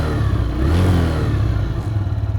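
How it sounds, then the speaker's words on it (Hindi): Motorcycle engine held in neutral and revved continuously, a loud close throaty drone swelling and settling without pulling away. "आप अभी इसको कितना भी रेस दे लो, कितना भी एक्सीलरेट कर लो, बाइक आगे नहीं जाने वाली है"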